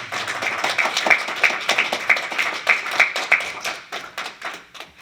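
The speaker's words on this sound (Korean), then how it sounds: "우리 큰 박수 한번 보내시기 바랍니다." A congregation applauds during a Sunday church service, giving a missionary a round of steady hand clapping, moderately loud and close, that tapers off toward the end.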